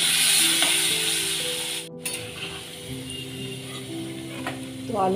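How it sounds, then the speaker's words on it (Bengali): Potatoes fry in oil in a pan for biryani, a steady sizzle with scraping and clinking of a utensil, loudest at first and easing slightly, with a faint clatter near the end. "আলুগুলো আগে ভেজে।"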